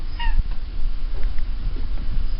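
A house cat gives a brief, fairly close meow near the start, then stays quiet over steady low indoor background noise.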